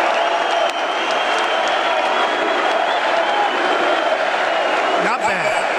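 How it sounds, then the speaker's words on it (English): A large crowd at an NRA convention cheers and applauds continuously, a dense steady roar of clapping and voices that holds loud throughout, with a brief shout rising near the end. "crowd loving President Trump at the NRA convention"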